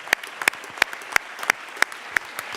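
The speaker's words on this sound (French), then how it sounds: "applaudissements pour Michel Corajou" An audience at the André Le Nôtre prize ceremony claps for Michel Corajou, sparse and fairly quiet, with single sharp claps spaced roughly every third of a second over a soft spread of lighter clapping.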